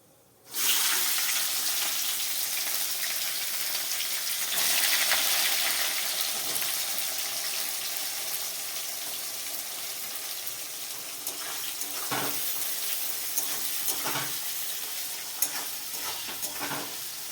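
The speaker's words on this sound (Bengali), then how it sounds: "পেঁয়াজটা যতক্ষণ ভাজি, তারপরে আবার দেখা।" Chopped onions sizzle in hot oil after the spices are tempered, a loud steady frying hiss right up close, with occasional stirring scrapes breaking through.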